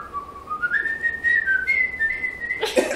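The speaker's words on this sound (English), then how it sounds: "So can you whistle for this, actually," A person whistles a short fife tune alone, a clear rising melody of sustained notes over about three seconds, close and moderately loud, ending with a brief burst of noise.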